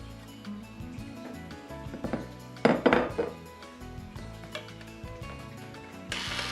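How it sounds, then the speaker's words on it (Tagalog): Electric hand mixer beating butter and white sugar in a bowl for an ube macapuno pie, a continuous mechanical whir with rattling beaters that clatter louder against the bowl midway, no voices. "Batihin gamit ang dikuryenteng pambate hanggang sa maging makinis at magkrema."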